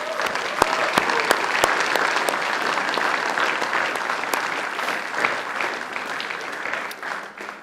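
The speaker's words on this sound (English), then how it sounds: "I ask you to give them a round of applause in thanks" Graduation audience at Macquarie University applauding the academic staff, a sustained round of clapping from a large hall crowd with a few sharp nearby claps standing out, steady throughout.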